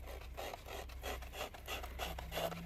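Rhythmic rasping strokes of a sanding disc rubbing back and forth on paper, soft and close, about five passes with a faint low hum beneath.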